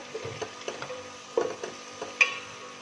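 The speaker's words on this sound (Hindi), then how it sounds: "अच्छे से हमने मसाले को भूनना है" Spices and chopped tomato cooking in a pan, with a utensil scraping and tapping against the metal in irregular strokes over a faint low sizzle, fairly quiet with a few sharper knocks.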